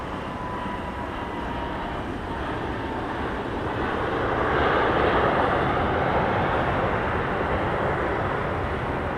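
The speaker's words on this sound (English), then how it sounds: "the loudest plane of the night was that Dassault Falcon" A Dassault Falcon tri-jet passes at night near DFW airport, a loud, steady broadband roar that swells toward the middle and holds strong, with no talk over it.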